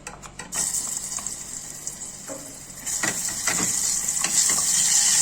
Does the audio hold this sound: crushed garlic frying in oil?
yes